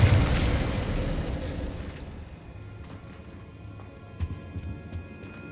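Incendio fire spell cast in Hogwarts Legacy, a loud whooshing burst of flame at the start that fades over a couple of seconds, followed by quieter scattered pops and crackles.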